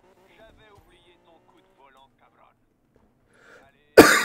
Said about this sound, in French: Je suis désolé, les gars, si je tousse.